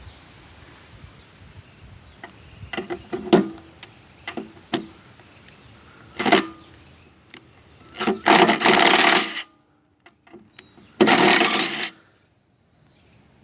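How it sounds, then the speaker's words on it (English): An impact driver with a 5/16 bit works screws out of the pulley covers on a John Deere 145 lawn tractor deck, giving short clicks and taps followed by several loud rattling hammering bursts, close by, with quiet gaps between. "I just use an impact driver with a 5/16"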